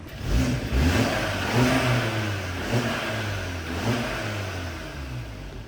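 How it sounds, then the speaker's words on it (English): A car engine with a stock intake revs repeatedly in rising, falling surges, a deep throaty intake roar close by with hissing noise throughout; a turbocharged Volkswagen Group MQB car. "I would like to hear what the intake sounds like stock"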